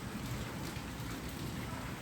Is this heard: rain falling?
yes